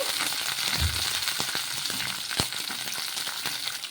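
Cumin, garlic and green chillies spluttering in hot oil in a kadai, a bright crackling sizzle with a few sharp pops and a soft thud near the start, steady and close.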